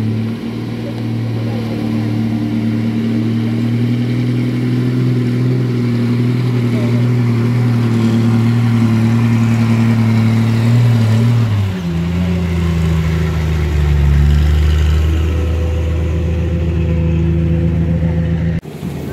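A Nissan truck's engine drones steadily on a road where heavy vehicles struggle uphill. The loud, low running tone holds for most of the clip, then shifts lower partway through and settles into a deeper rumble.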